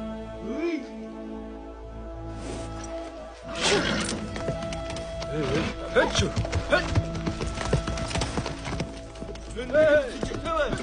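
Horses' hooves clip-clop in an outdoor scene amid voices and brief whinnying, the irregular clopping growing busier and louder partway through with people talking over it.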